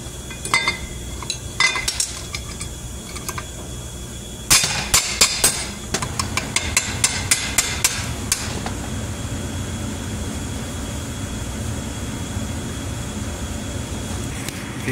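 Bushings being hammered into an IH tractor seat during a rebuild: a few spaced metallic taps, then a quick burst of sharp, ringing hammer strikes close by, fading into a steady background hum.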